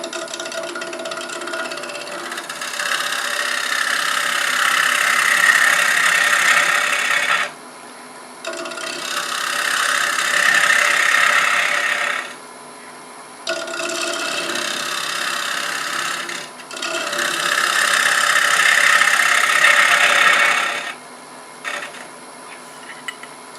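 A cutting tool shears a wooden bowl spinning on a lathe, in four loud, close, sustained rasping passes, each several seconds long, separated by short pauses.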